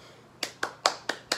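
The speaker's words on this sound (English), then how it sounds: "round of a mother-uffin' applause for the brand shipping" Five sharp hand claps in a quick, slightly uneven rhythm, close and fairly loud, with nothing else heard.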